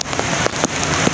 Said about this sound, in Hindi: कराची में तूफानी बारिश देख ले